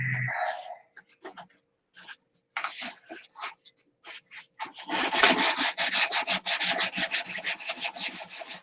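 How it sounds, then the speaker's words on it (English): A detail sander works the back part of a painted piece, starting with scattered short rubbing strokes and pauses, then settling into a steady run of rhythmic scraping strokes, close, with no talking. "I want to detail sand this back part too."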